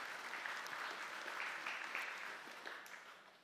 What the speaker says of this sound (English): a very warm applause and a big thank you, Matt Teppo.